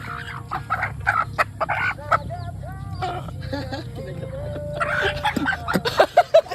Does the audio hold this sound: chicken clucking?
yes